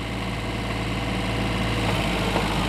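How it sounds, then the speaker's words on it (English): An old motor runs in reverse at full throttle, a steady loud droning engine hum with a low pulsing vibration that holds even and close for the whole stretch. "Go ahead and throttle it up all the way. Go ahead and backwards on the old motor."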